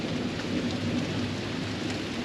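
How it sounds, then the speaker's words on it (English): Steady rain falls during a spring thunderstorm, heard from a porch on a wet morning as a dense, continuous hiss with a low rumbling undertone throughout. "Spring thunderstorms. That is right now."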